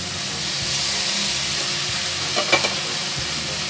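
Steady sizzle of meatballs being stir-fried in a hot pan, with a soft hiss throughout and a few brief scraping stirs near the end, no voices.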